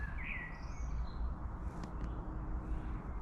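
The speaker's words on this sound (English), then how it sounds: "It's just really nice and peaceful, hearing the birds." Several small birds sing and chirp at a distance on a calm evening, faint tweets and short calls drifting over a steady low outdoor rumble.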